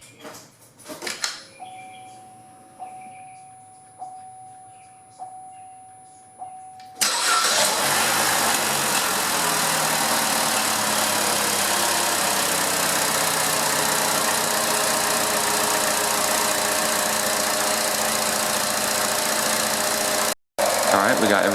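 Chevy Cruze 1.4L engine starting after new ignition coils are fitted, with a few faint clicks and a steady beep before it fires, then a loud, even idle hum that runs alone and cuts out briefly near the end.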